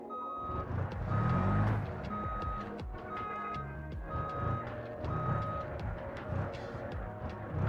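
A truck's reversing alarm in the driving game BeamNG repeats a steady chain of high beeps over a low rumbling engine, with brief knocks and clatter.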